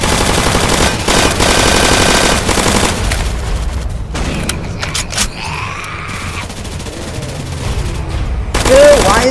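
Rapid automatic gunfire in the Roblox zombie uprising game, heard as loud, dense, sustained bursts with brief pauses and a final burst at the end.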